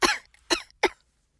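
Three quick, raspy coughs in a row from a cartoon dragon whose thumb tasted spicy, close and dry, each burst short and separated by brief pauses, then silence.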